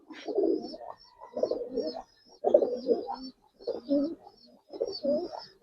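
Giribaz pigeons cooing close by, five rounded, throaty coo phrases in a regular rhythm, each about a second long with short pauses between, some faint higher chirps above them and no talking.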